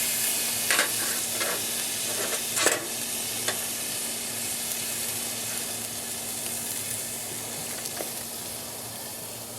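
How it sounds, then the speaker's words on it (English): Tri-tip steak sizzles directly over the fire on a Bubba Keg grill, a steady close hissing crackle with occasional sharp pops and spits, and no talking. "I'm going to put it directly over the fire because I like to char my tri-tip."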